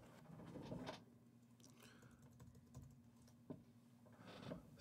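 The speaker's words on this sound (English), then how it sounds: "Type in my password" A password is typed on a Mac computer keyboard: soft, quick keystrokes come in a few short bursts, faint and close, with no one speaking.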